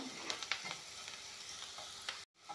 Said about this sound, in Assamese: এয়া চাওক, ধুনীয়াকৈ ভাজি ল'লোঁ।